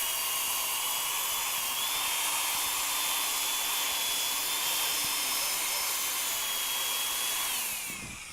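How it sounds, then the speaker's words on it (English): A power sander runs against a rotating wooden bowl, making a continuous high whirring drone with slight pitch shifts as it moves. It stays loud and steady throughout, then winds down at the end. "I keep moving, keep the sander moving,"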